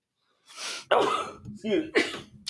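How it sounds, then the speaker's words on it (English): A single sharp sneeze bursts out after a quick inhale, followed by a few short voiced sounds, close and fairly loud. "Oh, guys, I'm gonna sneeze."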